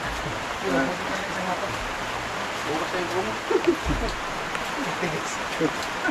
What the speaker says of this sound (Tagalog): Ulan na to.